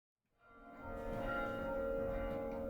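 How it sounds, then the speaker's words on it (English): Bronze carillon bells of the Singing Tower in Florida ring out after a brief silence, layered tones swelling and sustaining with a rich, resonant hum, heard alone at moderate distance. "The Singing Tower houses one of only 600 carillons in the world."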